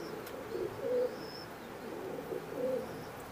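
Imported Teddy pigeons, a Teddy 128 pair kept in a cage with birds sitting on eggs, give soft, low coos in a few short bursts over a quiet background.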